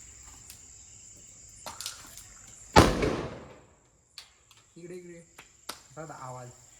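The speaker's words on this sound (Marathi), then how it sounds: "यांची अशी रिॲक्शन होते आणि ज्यानं खूप मोठा धमाका होते" A homemade bottle firecracker charged with nitrogen bursts in one loud, sharp blast that rolls off in a short decaying rumble, set against a steady insect chirr, followed by a few brief voices.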